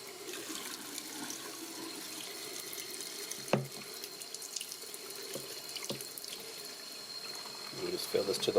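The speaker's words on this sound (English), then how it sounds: "just fill this to the water line." Hot water runs from a tap into a carpet cleaner's tank, a steady faint splashing stream with a few knocks and clunks of the tank, and rising filling sound near the end.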